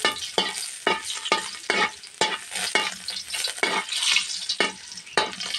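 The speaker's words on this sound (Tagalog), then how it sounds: "Gisa tayo ng bawang para sa ating pansit." Garlic being sautéed in a pan for pancit sizzles and fries steadily, with repeated scraping stirs of a spatula breaking in at a regular rhythm, close and fairly loud, with no voices.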